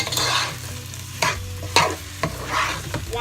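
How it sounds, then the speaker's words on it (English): Shredded okra fries in a pan for ogbono soup, a constant close sizzle broken by several sharp scraping stirs of a spoon against the pot, with no voices. "So we'll put it in, and then we'll start frying it."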